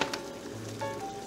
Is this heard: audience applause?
no